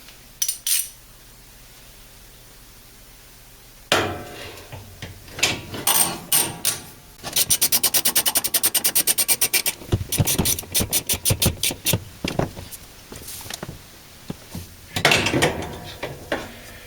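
Tightening a 9/16 bolt back into the lower agitator of a Whirlpool washer: rapid ratcheting clicks in bursts, with metallic clanks and knocks close by, spread over the whole span with short pauses between runs.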